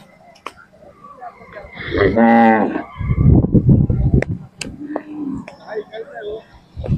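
A Khillar cow at a village cattle fair in Kole, Solapur gives one loud drawn-out moo, close by, followed by crowd chatter and nearby voices talking.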